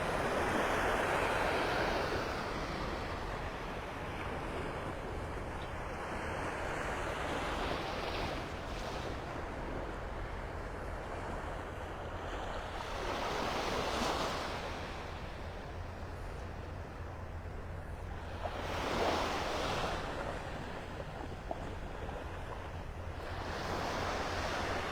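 Ocean surf rolls onto Vanderbilt Beach in North Naples, Florida, a steady wash of breaking waves with swells peaking every few seconds, mixed with gusty wind noise on the microphone and no talking.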